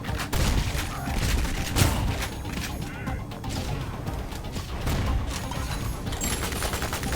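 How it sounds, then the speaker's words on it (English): Gun turrets blasting away in the video game Ion Fury, a steady barrage of loud, close shots and impacts with metallic clatter throughout. "We got gun turrets now."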